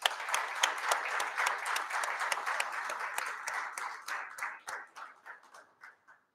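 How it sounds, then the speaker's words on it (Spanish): An audience applauds at a graduation ceremony for finance and banking technician graduates, many sharp claps merging into a dense ovation that thins out and fades to a few scattered claps at the end. "a quienes les brindamos un afectuoso aplauso"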